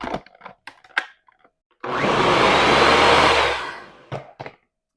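A blender whirs through red chile sauce in a single loud burst of about two seconds, preceded and followed by scattered clicks and knocks of handling.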